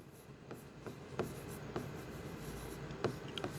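Chalk or marker writing on a board: a few quiet scratchy strokes and taps at irregular intervals over faint room noise, with no talking.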